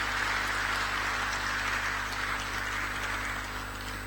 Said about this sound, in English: give another round of applause to the outgoing chairperson